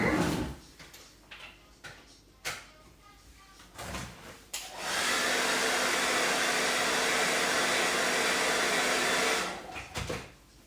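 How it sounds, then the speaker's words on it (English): After some clattering handling noises, a hair dryer switches on and blows with a steady loud whoosh for several seconds, then cuts off. "My favorite way is just with a blow dryer, a regular old blow dryer."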